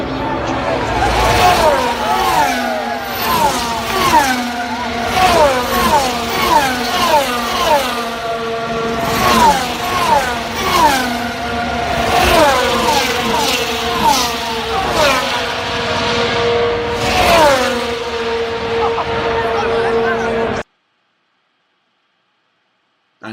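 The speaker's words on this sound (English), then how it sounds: "This was the first time I saw the cars go full speed." Formula 1 race cars scream past at full speed on a circuit, a continuous loud, high-pitched engine whine with repeated rising and falling pass-bys over a murmuring crowd, ending abruptly in silence.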